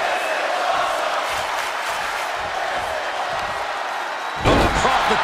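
A wrestling arena crowd in the video game WWE 2K23 cheers in a steady roar during an Edge versus Alberto Del Rio match, with a heavy slam-like thud near the end.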